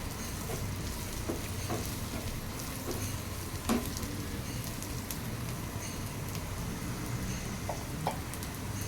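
Brinjal frying with Kashmiri chili powder and cumin powder makes a soft, continuous sizzle, with occasional faint stirring clicks and small pops and no voices.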